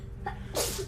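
A single sharp sneeze bursts out close by after a brief intake of breath, loud and quick, with no talking.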